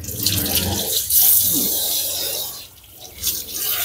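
Cold water runs and splashes nearby, a fluctuating rushing stream that swells and dips with a few sharper splashes, with no voices.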